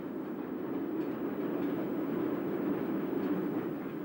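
Steam train running through the very narrow, unventilated bore of Combe Down Tunnel, 1,829 yards long, on the Somerset & Dorset line: a steady, enclosed roar of wheels and engine that fills the space continuously throughout, with no voices.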